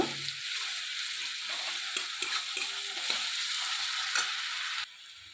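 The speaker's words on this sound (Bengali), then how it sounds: "এই রসুনটা ভালো করে আমি ভেজে নেব" A spoonful of garlic paste fries in a pan with browned onions, giving a steady close sizzle broken by short stirring scrapes, and then it drops sharply near the end.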